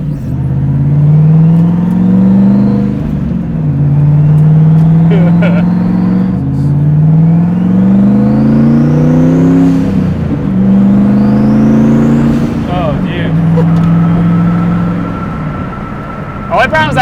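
A car engine revs repeatedly while driving, rising and falling in pitch in steady waves close by, with a higher whine on top and a few voices over it.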